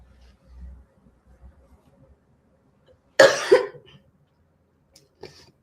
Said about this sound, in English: I really needed to cough